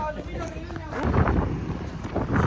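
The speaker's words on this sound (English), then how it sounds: "It's super windy." Gusty wind buffets the microphone with a steady low roar that swells stronger midway, while a voice talks faintly underneath.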